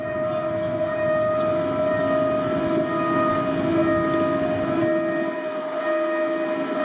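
Freight train 777 rolls past a level crossing beside a community on the line toward Bang Sue, a steady loud rumble with sustained horn or crossing-warning tones running throughout.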